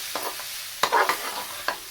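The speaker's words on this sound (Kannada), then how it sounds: "ಮಾವಿನಕಾಯಿ ಎಲ್ಲ ಮೆತ್ತಗಾಗೋ ತನಕ ಸ್ವಲ್ಪ ಚೆನ್ನಾಗಿ ಹುರ್ಕೋಬೇಕು" Raw mango pieces are stir-fried in a thick-bottomed pan for a red mango chutney, giving a soft steady sizzle broken by a few sharp scrapes of the spoon, heard up close.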